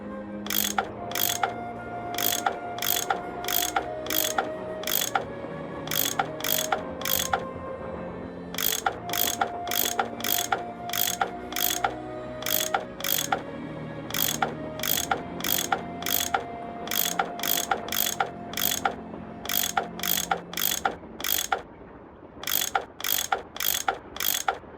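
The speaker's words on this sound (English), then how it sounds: "I bet that's what you use to unscrew these bolts." A ratchet tool unscrews bolts in the Nancy Drew game Last Train to Blue Moon Canyon, clicking in rapid, repeated bursts of sharp ticks over a soft musical background, with brief pauses between runs.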